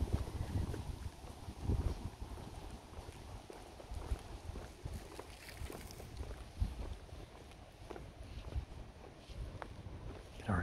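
Breezy, chilly wind blows outdoors at a spring in Linköping, Sweden, a steady low rumble of gusts buffeting the microphone with soft fluctuating surges throughout.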